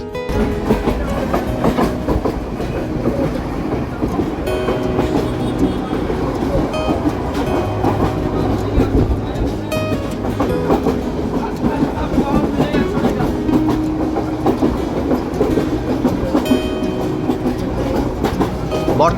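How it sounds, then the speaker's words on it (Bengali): Kishoreganj Express train rolls across the Tongi railway bridge over the Turag river, heard from on board as a loud, continuous rumble with rhythmic clickety-clack of wheels over rail joints throughout. "বর্তমানে আমাদের ট্রেনটি তুরাগ নদীর ওপর অবস্থিত টঙ্গী রেলওয়ে ব্রিজের উপর দিয়ে যাচ্ছে।"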